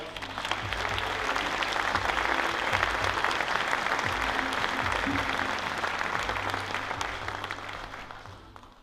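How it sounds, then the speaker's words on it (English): Audience at a design and built-environment festival talk giving a speaker a round of applause; a full, sustained wash of clapping that swells, holds steady, then gradually tapers off. "So please give her a huge round of applause"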